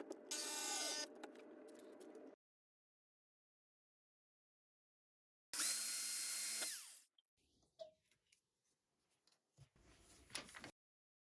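A power drill whines loudly drilling into a metal strut in two bursts, roughly two seconds each with a pause between, then scattered clicks and mechanical clatter follow.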